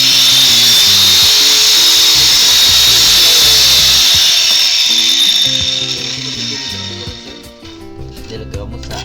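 A power saw fitted with a tungsten carbide disc made for wood, running loud and steady with a high whine, then easing off near the end, with rattling mechanical noise and some talk mixed in.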